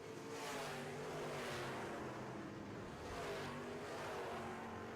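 Midwest Modifieds race cars battling through turns 3 and 4 on an oval track make a steady, layered engine roar that swells and fades as cars pass, with no voices.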